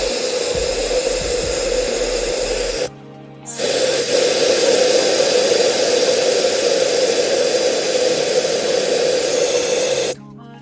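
Air hisses out of a motorcycle tyre in a loud, steady rush. It breaks off briefly after a few seconds, then resumes and stops near the end.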